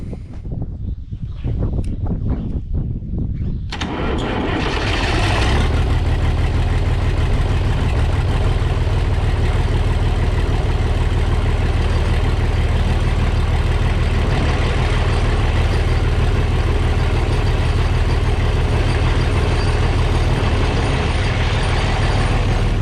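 A few quiet knocks, then a tractor engine starts and runs loudly and steadily, a deep continuous rumble close by.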